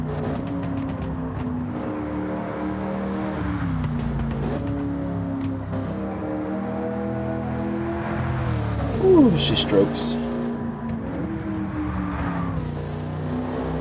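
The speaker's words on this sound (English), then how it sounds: "Just beautiful, just listening to that V8." A Pontiac Firebird Trans Am V8 in Gran Turismo 7 drones and revs with a deep, steady rumble, pitch rising and falling through gear changes, while someone talks over it throughout.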